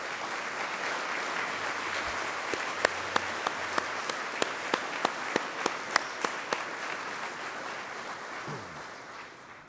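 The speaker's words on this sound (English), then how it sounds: "please give them a round of applause" Applause from a gala audience honoring residential school survivors, a soft, fairly distant clatter of many hands with a few sharper nearby claps, tapering off toward the end.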